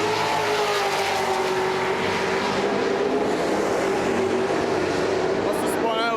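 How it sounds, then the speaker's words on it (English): NASCAR race cars thunder past at Montreal in a dense, continuous roar of engines, loud and sustained throughout with a brief higher whine near the end. "Almost the entire field races by."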